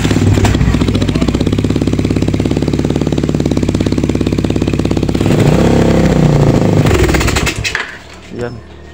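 Suzuki Raider 150 carbureted motorcycle engine warming up after sitting cold for a week, a loud, close, fast-pulsing idle that rises in pitch briefly near the middle, then sputters and dies, leaving near silence.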